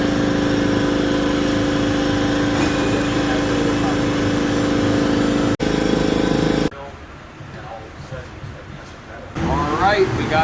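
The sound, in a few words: Nissan 350Z engine running on dyno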